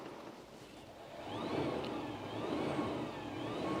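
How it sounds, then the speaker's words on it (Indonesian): A Mazda CX-80 in EV mode, parked in neutral, gives a faint electric-motor whine that rises in pitch as the accelerator is pressed, thin and distant over a low background hum. "Itu suara motor listrik, bukan mesinnya."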